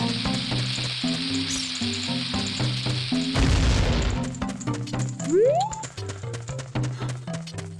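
A bomb detonates in The Legend of Zelda: Ocarina of Time (1998) with a loud, close boom and a brief burst of crackle, set among steady game music and scattered effects, with no talking.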